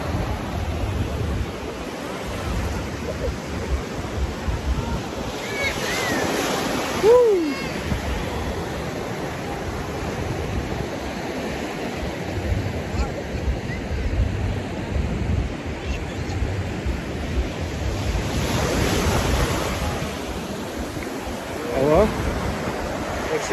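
Atlantic Ocean waves break on Atlantic City beach in New Jersey as a continuous roaring surf with periodic swells, close and fairly loud, while people talk intermittently over the sound and wind buffets the microphone.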